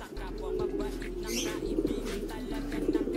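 Domestic pigeons coo in a low, soft rhythm in a loft while eggs are checked, a steady murmur with faint chirps and a little wing movement nearby.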